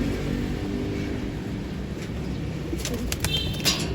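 Racing pigeons return to their loft, with soft cooing and a few brief bursts of wing flapping against a steady background hum of outdoor traffic.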